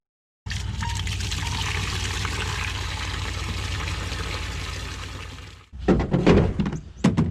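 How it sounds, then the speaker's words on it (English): Water pours steadily into a bucket for window-cleaning solution, a sustained close rushing stream that cuts off, followed by a few sloshing splashes and knocks. "I'm just going to add my soap"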